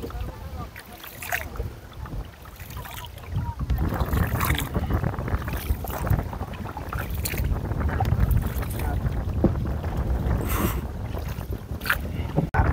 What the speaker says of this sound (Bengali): আমরা ছোট একটা ডিঙ্গি নিয়েছি